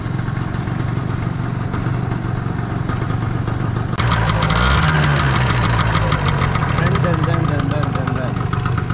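An Italjet 180cc two-stroke dragster scooter idles roughly and loudly up close, its uneven engine note steady throughout, with a louder, harsher patch partway through and people talking over it.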